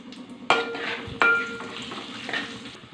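Cumin and dried red chillies frying in hot oil as tempering for a dried fish, brinjal and egg curry, a close steady sizzle broken by two sharp metallic clanks of a spoon stirring the pan.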